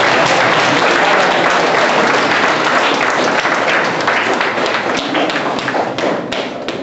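Audience applause fills a school naming ceremony, dense steady clapping from a large crowd, loud and continuous before gradually thinning toward the end.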